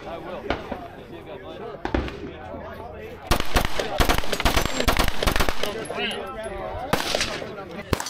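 A full-auto rifle fires at an outdoor range during a trade-show industry day, with loud rapid bursts of crackling shots packed into the middle and scattered single cracks before and after, while people talk around it.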